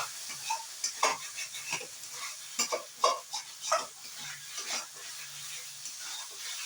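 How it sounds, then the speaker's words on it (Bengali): A spoon stirring and scraping chhana kachori filling with salt in a pan: irregular soft scrapes and clicks, close and fairly quiet, with a faint sizzle-like hiss underneath. "এবার এটাকে ভালোভাবে মিক্স করে নেব"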